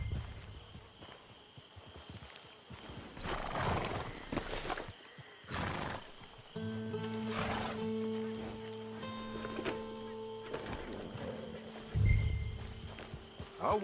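A horse whinnies and snorts amid clip-clopping hooves in Red Dead Online, with game-like ambience and tonal effects, fairly close and moderately loud.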